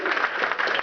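Brief applause from an audience at a church talk on human trafficking, a short burst of many hands clapping that stays even for under a second.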